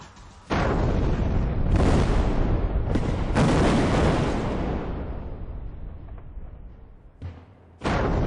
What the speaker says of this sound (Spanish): Cada explosión genera una propagación de ondas parecida a la de un sismo.